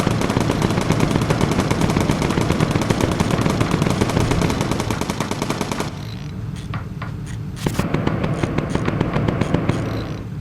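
Bomber gunners in the game Bomber Crew fire defensively in rapid, loud machine-gun bursts that run almost continuously, drop away briefly, then resume in sharper separated shots.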